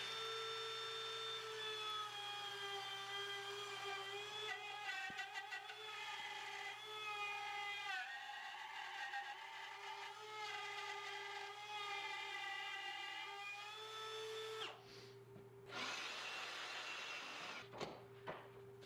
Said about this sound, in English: clamp my template down and route this thing away